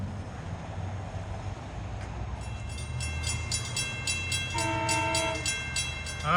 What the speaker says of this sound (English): approaching is train 75 from Patchogue to Babylon, the last cab car horn